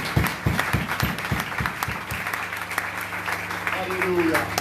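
A church congregation claps in brisk, loud applause to acclaim God during a French-language worship service, the rapid claps fading after a couple of seconds into a sustained tone and crowd noise.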